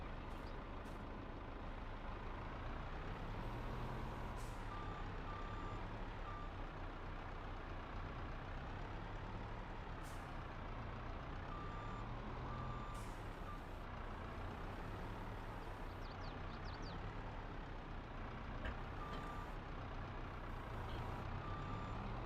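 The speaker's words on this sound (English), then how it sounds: "Get that wheel loader out of the way." A wheel loader reversing in Farming Simulator 22, with a faint repeating backup beep over a steady low engine drone and occasional brief clicks and hisses.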